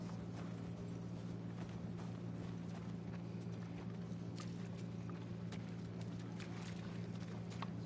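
Horse hooves clip-clop at a steady walking pace in The Last of Us Part II, quiet irregular hoofbeats over a constant low rumble and ambient hum.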